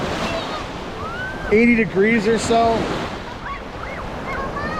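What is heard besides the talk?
ocean waves on the beach at Treasure Island, Tampa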